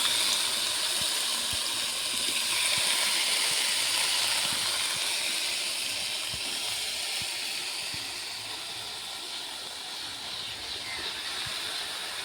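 Potato and green plantain pieces fry in oil, giving a loud, even, close hiss that holds for several seconds and eases slightly toward the end, with no voices.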